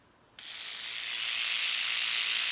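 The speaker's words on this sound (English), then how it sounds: "If you notice, the brush is spinning." A spin brush electric toothbrush switches on abruptly and keeps up a steady, close, high-pitched whirring buzz with no talking.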